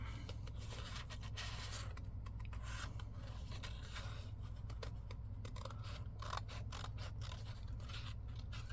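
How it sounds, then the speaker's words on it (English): Scissors snip steadily through paper while cutting shapes out, a close, dry run of repeated slicing and scraping strokes with no talking. "So I'm just going to cut these out."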